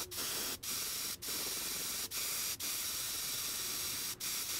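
Spray paint hisses onto a homemade Whopper Plopper fishing lure, black on top fading to white, in steady close bursts cut by five short pauses between passes.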